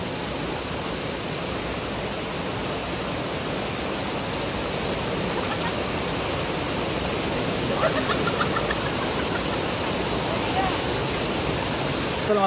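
A waterfall's rushing water keeps up a steady, loud broadband roar throughout, with no clear talk rising above it.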